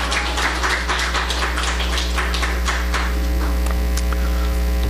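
A church congregation claps to welcome a visitor, a burst of scattered hand claps that thins out over a few seconds beneath a loud steady electrical hum.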